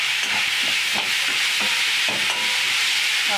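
Onion with ginger, garlic and green chili paste sautéing in a pan for brinjal sabji, a steady close sizzle with repeated scraping stirs of a spatula, no voices.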